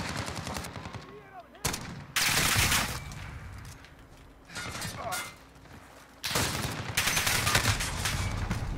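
Dragunov rifle fire in a Call of Duty-style video game, loud bursts of shots in clusters separated by quieter pauses, with mechanical clatter and a voice talking faintly underneath.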